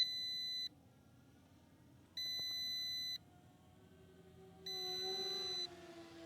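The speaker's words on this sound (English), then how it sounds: "You're going to hear some beeps." Three evenly spaced electronic beeps from a Veeniix V11MINI SE drone, each about a second long, high and clear against a quiet background.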